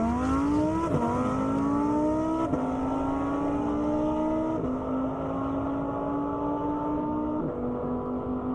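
Race cars, including a Nismo GTR and a Lamborghini, accelerate hard down an airstrip at the Indy Airstrip Attack. Loud, sustained engine roar climbs steadily in pitch through repeated gear shifts, close and continuous, with no voices.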